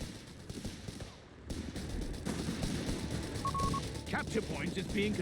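Rifle and machine-gun fire from German MP40 Grenadiers and British forces in Company of Heroes 3, distant rattling bursts and scattered shots over a continuous battle din with someone commentating throughout.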